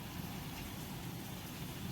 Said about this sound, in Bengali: অ্যাকচুয়ালি বাইরে প্রচুর বৃষ্টি হচ্ছে